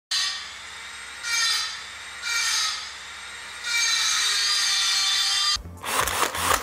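Cordless drill spinning in reverse with an 8 mm wood bit, reaming out the fin box hole of a NeilPryde Glide Wind 2019 windsurf board: steady whirring bursts that rise and fall several times, then a longer run ending in rough scraping.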